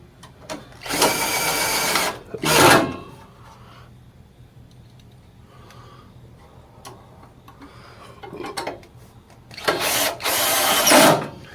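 A power drill drives the last screws while a 5x7 or 7x6 LED headlight is installed, giving two loud whirring bursts near the start and two more near the end, with quiet handling noise in between.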